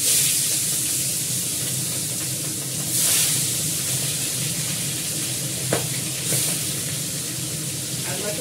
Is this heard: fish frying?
yes